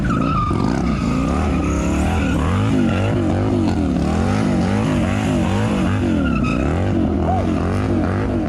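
A 150-horsepower cruiser motorcycle engine revs hard again and again, rising and falling in quick repeated waves. The sound is loud, close and continuous throughout.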